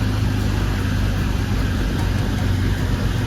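An accident car with a smashed back bumper backs up, the engine a constant low rumble close by that neither rises nor falls, heard alone without any voices.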